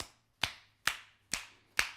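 Four sharp claps of a hand striking the body in a health clapping exercise, evenly spaced about every half second, close and crisp with a low hum between them.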